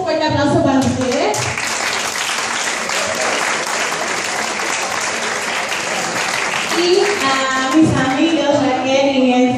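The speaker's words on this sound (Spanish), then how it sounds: "un fuerte aplauso para ustedes" Audience applause at a live event in a Spanish-speaking setting, dense and steady for the full stretch, with cheering voices and shouts mixed into the clapping.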